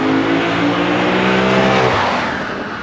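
A Lexus IS 500 F Sport Performance engine and exhaust roar close and loud in a steady, revving drone that slowly eases off toward the end.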